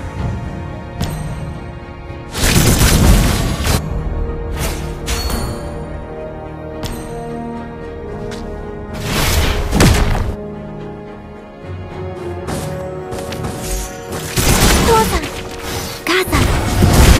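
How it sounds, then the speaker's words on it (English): Turrets and heroes clashing in a video game battle, with repeated loud impact bursts, crashes and booming hits over layered effects and music, plus an announcer-style voice. "destroyed a turret!"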